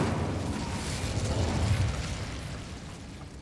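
Incendio fire spell cast in Hogwarts Legacy, a steady, close, roaring burst of flame with a deep rumbling body that holds level for a few seconds before easing off slightly.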